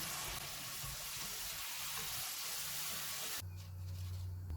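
Besan chips bubble and crackle in hot frying oil, a steady sizzling hiss that runs throughout, with a low clatter near the end and no voices.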